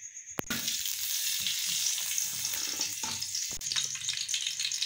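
Ghee heats in a kadai ahead of frying cauliflower pakoras, giving a steady, close sizzle with soft bubbling throughout and a few sharp clicks and knocks of utensils against the pan.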